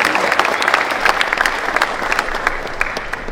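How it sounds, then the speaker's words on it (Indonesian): An audience at an event applauding a group of children, a dense, steady round of clapping from many hands, fairly loud and close, with faint crowd murmur underneath. "Mohon tepuk tangan untuk adik-adik yang luar biasa."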